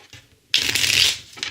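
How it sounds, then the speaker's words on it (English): A deck of tarot cards is riffled in one close, crisp shuffle, a brief burst of flapping card edges in an otherwise quiet room. "And one more shuffle here."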